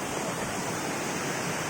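Kabiton Falls pours as a steady, broad rush of falling water, continuous and fairly close, with no voices.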